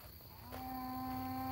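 Cattle on a farm lowing in a long, sustained moo that swells up from a low, steady rumble of hooves and movement, fairly close and strong, with no talking over it.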